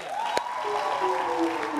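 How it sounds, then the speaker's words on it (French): An audience at a televised music show applauds, a steady patter of clapping heard under a sustained musical tone and some crowd noise, moderately loud throughout the short moment. "Ça s'applaudit."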